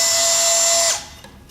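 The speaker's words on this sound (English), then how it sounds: "so I'm going to ream a little bit here because I found that these holes do get" A power drill reams a tight hole with an aviation drill bit, giving a loud, steady high whine that spins down and stops abruptly after about a second.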